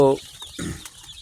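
Young chicks of an Australian chicken breed, raised for eggs, give a few short close chirps and clucks inside a brooding shed, with soft background rustling.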